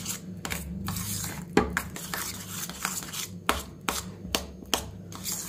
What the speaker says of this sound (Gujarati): અને હવે આને આપણે એક ચમચીથી મિક્સ કરી લઈએ